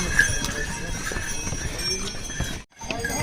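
Horses clip-clopping along the crowded Kedarnath pilgrimage trek, hooves tapping steadily amid a busy bustle of people and voices, with a brief drop to near silence before the noise resumes.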